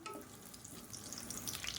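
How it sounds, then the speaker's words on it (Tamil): Fennel seeds and curry leaves fry in hot oil with a steady, close crackling sizzle that grows slightly livelier toward the end, with no voices. "நல்லா பொரியட்டும்."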